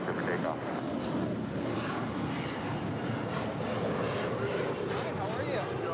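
An airliner roars steadily through its takeoff run on runway 25 right at LAX, a loud, continuous broadband engine rumble that holds even for the whole stretch, with voices present over it.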